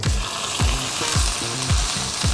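Fish frying in a pan with just a little oil, a steady loud sizzle with repeated scraping or pressing strokes at a regular pace, close up and with no voices.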